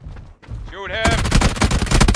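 Rapid automatic gunfire in PUBG on Xbox Series S, loud and dense bursts dominating the second half, preceded by a shouted voice and game sounds.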